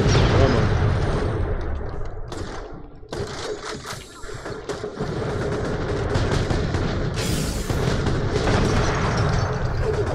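Dense, rapid gunfire with booming blasts from the video game Borderlands: The Pre-Sequel, continuous and loud throughout, layered under excited voices talking.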